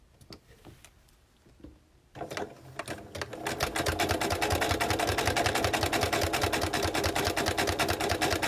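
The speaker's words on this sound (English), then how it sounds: "I'm just going to do a little top stitch very, very close to the edge." A sewing machine top stitches very close to the edge of fabric for a tea caddy, starting after a few quiet clicks and running as steady, fast, even stitching close by.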